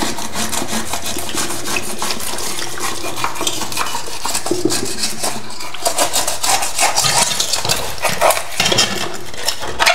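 Pot scrubber rubbing back and forth over a stainless steel (inox) item, a steady close scraping and rasping with faint metallic clinks, continuous throughout with no talking.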